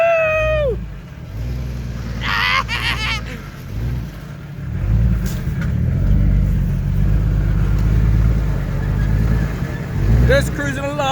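A Jeep runs with no motor oil, its engine giving a low, rough rumble that rises and falls as it drives along. Close and loud throughout, with brief excited voices near the start and the end.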